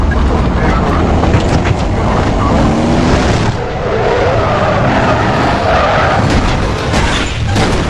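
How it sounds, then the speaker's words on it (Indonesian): A car skidding and crashing as it rolls over several times on a bridge, a loud, continuous roar of tire screech and grinding impact noise that stays dense and unbroken throughout. "dia mengalami kecelakaan di atas jembatan hingga mobilnya terguling beberapa kali"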